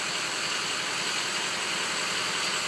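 A truck's diesel engine runs steadily with its variable geometry turbo commanded up, giving a loud, continuous broadband rush and whine with no talking over it.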